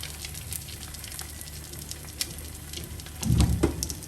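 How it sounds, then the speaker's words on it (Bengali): Egg paratha fries in a pan, a faint, steady sizzle and crackle running throughout, with a louder burst of spitting and clatter near the end. "এভাবে করে আমি ডিম পরোটা ভাজছি।"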